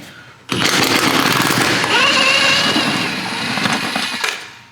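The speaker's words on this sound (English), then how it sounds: "we will take out these bolts" A pneumatic impact wrench loosens transmission mount bolts on a Nissan G35/350Z, one long loud continuous rattling burst of about four seconds, close by and alone, starting abruptly and then tapering off.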